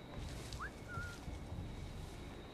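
A player character whistles to a guard in the video game Assassin's Creed IV: Black Flag: two short whistle notes, a quick rising chirp then a steady level tone, faint over a low ambient game background.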